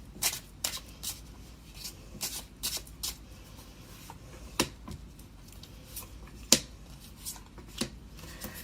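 A deck of tarot cards is shuffled and drawn up close, with a run of quick riffling flutters and crisp card slaps at an irregular rhythm and no speech.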